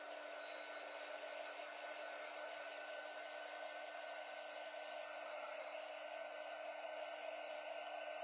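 A hair dryer blows steadily on wet brown and sour apple green paint on a small ghost figure, a constant even whir with a fixed high tone, close and uninterrupted throughout.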